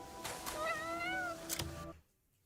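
A cat in the Crimson Desert video game gives a single drawn-out, rising and falling meow, close and clear over a soft game backdrop, ending with a brief quiet tail.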